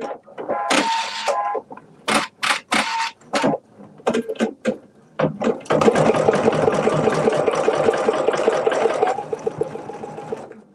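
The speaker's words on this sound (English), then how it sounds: "now I'm going to start my machine and stitch through all of those layers" Sewing machine stitching through several layers of fabric, first in short stop-start bursts, then one long steady run at a slow speed, close and clear with no talking.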